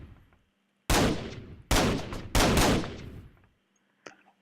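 A SAW machine gun in a Minecraft mod fires three loud, close bursts, each ringing off in a decaying tail. A faint click follows after the firing stops.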